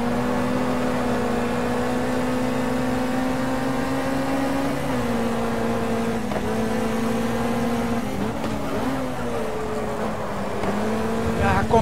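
A Lotus Cortina race car engine in a racing game at Teretonga holds a steady, droning note, loud and near throughout, with small shifts in pitch as it moves through corners.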